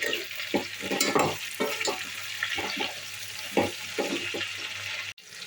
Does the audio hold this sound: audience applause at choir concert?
no